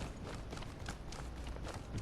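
Enemy footsteps in the Apex Legends video game patter quickly and rhythmically through a busy, moderately loud game mix, with no talking over them.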